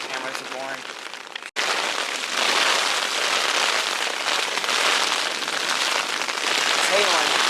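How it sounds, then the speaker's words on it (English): Hail patters densely and steadily on a tent during an archery elk hunt in Idaho, a loud continuous hiss of impacts that starts abruptly after a brief stretch of a voice. "It's hailing."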